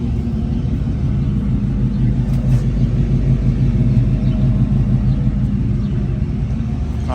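A 1979 AMC Spirit AMX with a four-speed manual sits running, its engine giving a steady, loud low rumble that holds evenly throughout with no talk over it.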